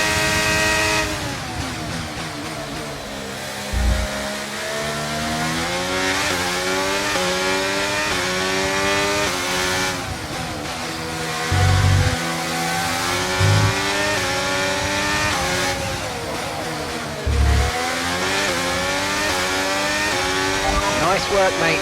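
Race car engine in the Braking Point 2 game, revving high and accelerating hard through repeated gear changes, with rising-and-falling pitch sweeps and a few brief low thumps, loud and close throughout.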